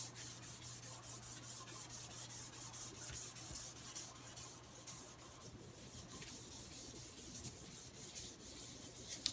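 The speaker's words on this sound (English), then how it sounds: "I'm going to take a Kleenex, plain old Kleenex tissue, and I'm running on light circles, and I'm coating the back a little bit." Soft, steady rubbing of a plain Kleenex tissue moving in light circles over graphite on the back of a paper print, a quiet swishing texture repeating rhythmically, close and alone.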